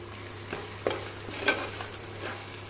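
Chili and turmeric powder roast in a pan for crab curry, with a low steady sizzle and a few scraping stirs of a spoon, close and fairly quiet, with no talking.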